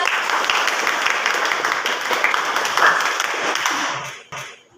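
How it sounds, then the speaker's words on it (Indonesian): A classroom group claps together in a loud, dense burst of applause that holds for about four seconds before quickly tapering off. "Aplaus untuk kita."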